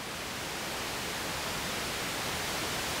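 A Moog DFAM synthesizer puts out continuous noise with its lows filtered off, a steady, faint, even hiss with no change and no voices.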